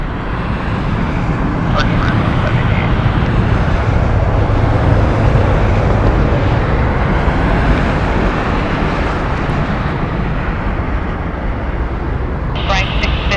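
A jet departing runway 1 left at Las Vegas Harry Reid International Airport roars continuously, loud and broadband, with a steady rumbling engine wash that barely varies over the whole stretch.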